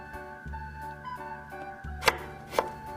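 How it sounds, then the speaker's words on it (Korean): Knife slicing radish, water dropwort and scallions on a cutting board for spicy oyster muchim, a few soft close chops with two sharper knocks near the end, under a low steady background hum. "무침에 사용할 야채를 썰어줍니다."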